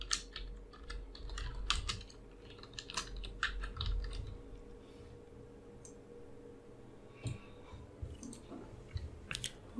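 Close, quiet clatter of a computer keyboard comes in quick irregular bursts of keystrokes with short pauses, sharp individual key clicks standing out from a faint steady background hum.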